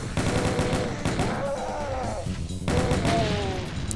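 A chaingun fires continuously in the video game Doom 2: TNT Evilution, Level 24 Quarry, as a loud, dense, rapid rattle with a voice talking over it.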